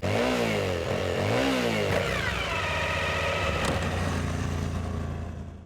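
A Honda Africa Twin adventure motorcycle engine revs up and down close by, loud and continuous, then settles into a steady run before fading slightly at the end.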